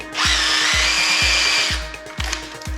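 A power drill whines at high speed for over a second, boring 13 millimeter holes, and then winds down, with repeated low thumps of the tool running underneath.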